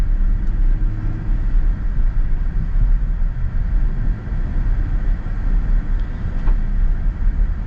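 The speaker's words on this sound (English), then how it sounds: "it's solid over the train tracks" A 2025 Kia Carnival V6 minivan drives over train tracks, heard from inside the cabin as a steady, loud road rumble with a couple of faint knocks near the end, and no talking.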